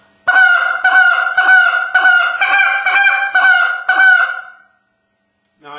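A goose call blown in the spit-note style gives a rapid run of about eight loud, clipped honks in quick rhythm, close and alone, then stops, with a brief extra blast at the very end.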